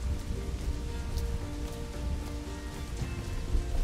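Steady rain falling in Assassin's Creed IV: Black Flag, a continuous soft hiss of drops pattering on surfaces, even and unbroken throughout with no talking.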